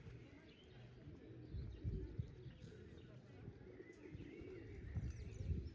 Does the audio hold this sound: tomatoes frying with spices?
no